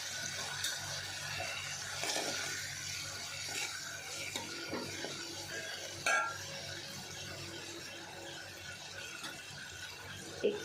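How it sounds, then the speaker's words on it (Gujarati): Potato bhaji spices being stirred together in a pan over a low gas flame, a steady scraping and clinking of a spoon against metal with a soft sizzle underneath, fairly quiet and continuous with a few sharper knocks. "આ બધો જ મસાલો આપણે આમ જ ધીમા ગેસે મિક્સ કરી લઈએ"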